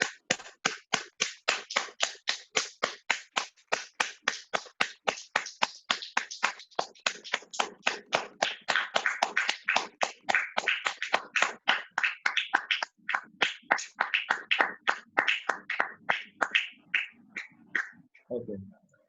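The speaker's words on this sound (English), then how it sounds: "Please unmute yourself and start clapping." Dozens of webinar participants clapping together online, a dense run of sharp, fast overlapping claps that continues for nearly twenty seconds before tapering off with a brief rustle at the end.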